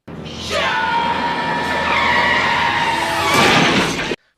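A car skids with a long, loud tire screech in a 1985 film scene, the squeal sweeping and sustained for several seconds before ending abruptly; no crash impact stands out.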